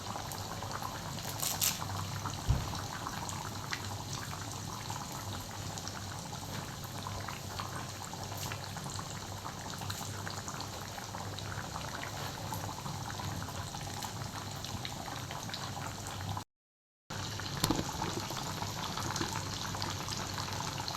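A pot of coconut-based fish curry with kingfish pieces simmers and bubbles steadily at close range, with one brief dropout near the end and no speech.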